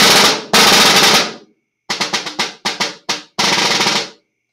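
Snare drum etude played forte on a concert snare, loud crisp strokes with two sustained rolls at start and end framing a run of quick separate accented hits, each ring cut off cleanly between phrases.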